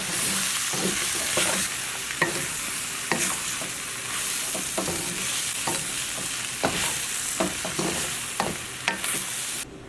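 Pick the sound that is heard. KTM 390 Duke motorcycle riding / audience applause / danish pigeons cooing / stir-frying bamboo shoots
stir-frying bamboo shoots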